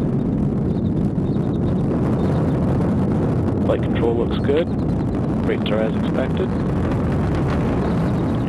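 An Atlas V rocket launching from Cape Canaveral gives a deep, continuous rumbling roar at full thrust, steady and broad throughout while a launch commentator's voice talks briefly over it.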